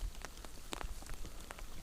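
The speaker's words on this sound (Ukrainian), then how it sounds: "такий дощик посилився" Rain patters in scattered, crackly drops on a nearby surface while out fishing from a boat, a light irregular tapping with no voices.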